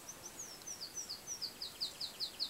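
Small birds chirp outdoors in a quick series of faint, high tweets that repeat steadily over a quiet background.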